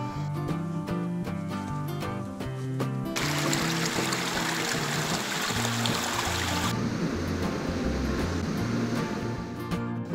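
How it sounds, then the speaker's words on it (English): River flowing past an old mill on an off-grid homestead, a steady rushing wash of water that swells louder through the middle and continues under background music. "There's an amazing old mill by the river."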